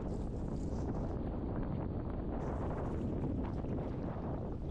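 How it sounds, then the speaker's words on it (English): Strong wind on a beach in Crete on an April day roars steadily and loudly across the microphone, a continuous buffeting rumble with no voices. "my hair is everywhere with this wind"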